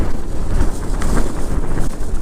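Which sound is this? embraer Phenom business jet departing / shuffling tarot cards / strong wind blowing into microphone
strong wind blowing into microphone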